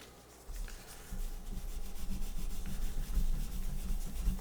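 Steel wool rubbed over the finish of an old rifle gives a steady, rhythmic scratchy scrubbing, close and moderately quiet, with no talking.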